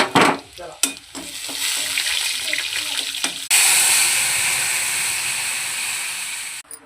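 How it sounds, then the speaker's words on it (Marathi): Cumin, mustard seeds and garlic sizzle in hot oil while tempering dal, with clattering and stirring at first, then a loud steady frying hiss that runs close and unbroken until it cuts off near the end. "आता वरण फोडणी देते"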